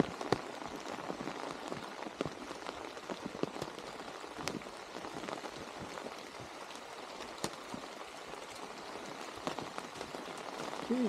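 Steady rain falling on a cloudy day along PA Route 16 in Old Forge, Pennsylvania, a continuous close patter with scattered louder drops.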